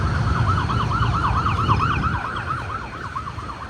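A police car's wailing siren on a São Paulo street rises and falls in quick repeated sweeps over a rumble of traffic, fairly close and loud, fading slightly toward the end.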